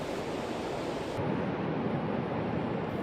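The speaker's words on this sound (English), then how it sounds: "listening to the sounds of the surf" Steady broadband wash of Pacific Ocean surf rolling onto a beach at Cape Kiwanda, Pacific City, Oregon, continuous and fairly loud, with a windy hiss throughout.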